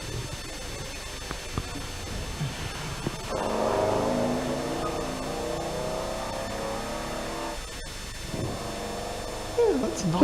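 A sprint race car at the Leyburn Sprints, the Manpower car, gives a smooth, tuneful engine note that swells loud for several seconds mid-clip over the general event noise, with faint chatter around it.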